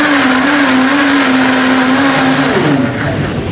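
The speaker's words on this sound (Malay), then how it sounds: "So kita kisar sikit." An electric blender grinding chillies for lemak asam whirs loud and steady throughout, its motor pitch holding level before dipping slightly near the end, close by with no talking.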